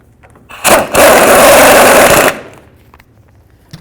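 A power tool, likely an impact gun, runs in one loud sustained burst of about a second and a half with a brief blip before, driving front lower control arm bolts on a 1998-2012 Ford Crown Victoria; no talk.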